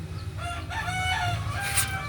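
A rooster crows once, loud and close, with a clear rising-then-falling call over a low steady hum in a small home garden.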